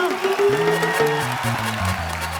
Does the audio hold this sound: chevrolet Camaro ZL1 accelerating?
no